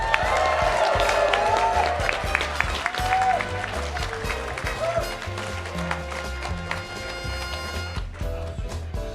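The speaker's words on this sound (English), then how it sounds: "Give a round of applause for jury number 2, Massey." A crowd at a live game show event at Magfest claps and cheers loudly and steadily throughout, with scattered voices and music-like tones mixed into the dense applause.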